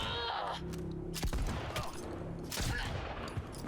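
Gunfire in Cyberpunk 2077, a few sharp loud shots and bursts cracking out over game noise, with bangs clustered near the middle and end.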